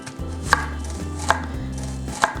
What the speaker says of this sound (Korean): 뿌리 쪽을 너무 많이 잘라내지 마시고 이렇게만 잘라가지고 껍질을 벗겨주도록 할게요